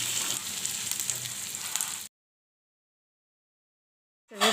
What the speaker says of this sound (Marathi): याच्यामध्ये तेल टाकलं तव्यामध्ये आणि आपण भाजून घ्यायची बोंबील आपल्याला चांगली